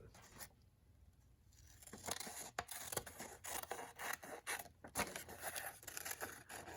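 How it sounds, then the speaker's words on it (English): Scissors snip and slice through paper while cutting out a rounded shape for a notan art project, giving a series of close, crisp cuts and rustling paper scrapes in an irregular rhythm with no talking. "And I'm going to cut out my next shape."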